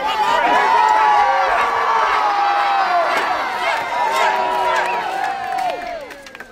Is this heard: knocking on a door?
no